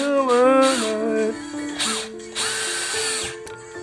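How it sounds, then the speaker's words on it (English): A power drill drives into lighting enclosure pieces in several whirring bursts, its pitch rising and falling as the motor spins up, bogs down and stops, close and loud. "Drilling."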